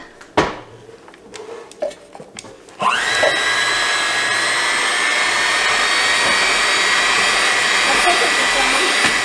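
Electric hand mixer whirring steadily through banana bread batter, starting abruptly after a few seconds of clatter and soft kitchen chatter, then holding a loud, even motor drone to the end.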